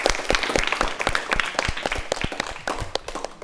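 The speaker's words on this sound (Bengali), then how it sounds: "তার জন্য একটা করতালি হয়ে যায়।" An audience at a televised quiz show breaks into applause, a steady burst of hand clapping from a modest crowd that carries on for a few seconds without speech.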